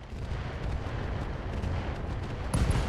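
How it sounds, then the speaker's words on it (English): SRM ammo exploding in the RogueTech mech combat game: a dense, sustained rumbling roar of blasts and booms, loud and continuous, swelling further near the end. "SRM ammo explosion, and that Orion One is less target."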